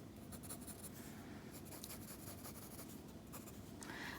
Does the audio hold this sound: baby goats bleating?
no